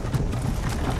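Horse hooves clip-clop in a steady, fairly loud rhythm on the ground in the fantasy role-playing game Skyrim, mixed with a low rumbling background.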